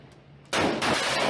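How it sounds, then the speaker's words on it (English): Assault rifle fire in a documentary about the battle of Marawi: a sudden loud burst of gunfire breaks in after a quiet moment and carries on to the end. "Assault rifle."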